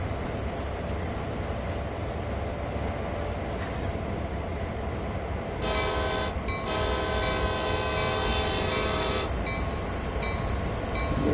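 A locomotive horn in Train Sim World 2 on the Sand Patch Grade route, about four seconds of sustained loud blasts with a short break, over steady rumbling train running noise.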